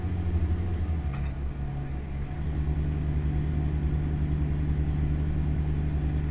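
A truck in American Truck Simulator cruises at night on a highway run from Cache Creek, BC, toward Tok, Alaska, its engine a steady low droning rumble with constant road noise, even and close throughout.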